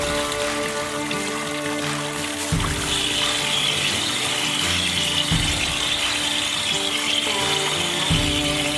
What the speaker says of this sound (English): let the water flow down through it and let the scrappy stuff flow out over the top